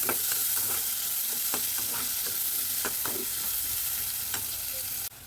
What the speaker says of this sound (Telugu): ఆయిల్లో ఈ ఉల్లిగడ్డ వేస్తున్నాను